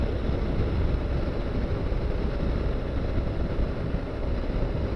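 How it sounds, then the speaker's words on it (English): A Honda NC750X motorcycle cruises at around 75 mph, a steady broadband roar of wind and engine drone at constant level throughout, with no talk. "So I'm going to take it up to 70 miles an hour"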